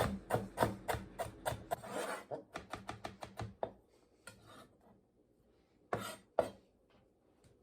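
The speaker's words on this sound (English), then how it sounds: "one of my favorite tricks for peeling ginger, which is to use a teaspoon" Fresh ginger root scraped with a teaspoon to strip its skin gives a quick run of close, rhythmic rasping strokes, then tapers off to faint scratches and a couple of final scrapes.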